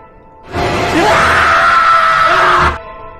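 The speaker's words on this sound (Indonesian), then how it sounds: "berteriak skrim ala-ala Slipknot" A loud, raw heavy-metal-style scream in the Indonesian horror film Suster Keramas 2 bursts out and holds for about two seconds before cutting off.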